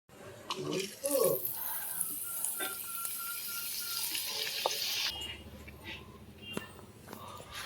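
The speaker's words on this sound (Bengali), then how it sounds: "দাদু দোকান থেকে পাঁপড় এনে দিয়েছে চলো পাঁপড়টা ভাজা করি" Papad frying in hot oil, a bright crackling hiss that fades midway, with clinks of utensils and a voice talking in the background.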